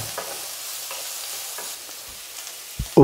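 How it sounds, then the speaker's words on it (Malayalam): Green chillies slit lengthwise, shallots and tomato sautéing in a pan for Kerala egg theeyal, a steady soft sizzle broken by a few scraping stirs and a louder clatter near the end, with no talk. "ഇതെല്ലാം ചേർത്ത് നന്നായിട്ട് വഴറ്റിയെടുക്കാം."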